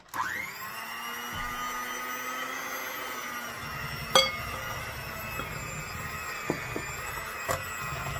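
An electric mixer whirs steadily as heavy cream is beaten into peanut butter cheesecake batter, a continuous motor drone with a few brief clinks against the bowl.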